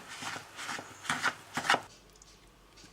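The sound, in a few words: mixing butter pieces into flour by hand for brioche dough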